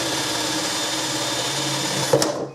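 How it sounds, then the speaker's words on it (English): A power drill runs steadily and loudly, boring into the side of a balloon arch base, with a brief knock near the end as the motor winds down. "Then I'm going to drill right into this side"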